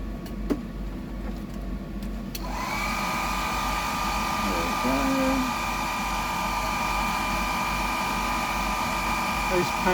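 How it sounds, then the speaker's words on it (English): An air dryer switches on and blows steadily and loudly over a freshly painted gold shiner fishing lure, a constant whooshing hum with a faint tonal whine, as someone speaks briefly over it. "the air dryer just speeds it up"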